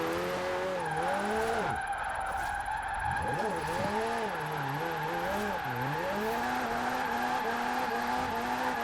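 Mid-engine car drifting in the racing game Forza Horizon 4, engine revs rising and falling under long wavering tyre squeals, loud and continuous throughout.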